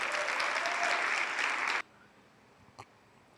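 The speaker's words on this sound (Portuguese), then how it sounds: "Dá uma salva de palmas para Jesus então aí" Church congregation claps in a loud, dense burst that stops abruptly after under two seconds, followed by near quiet and a single faint knock.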